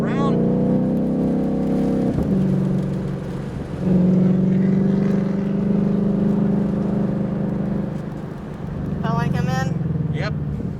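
A Ford Mustang Shelby GT500 on the NOLA Motorsports race track gives a loud, steady engine drone with harmonic tones that shift through gear changes and rise as it accelerates. Voices talk over the engine at times.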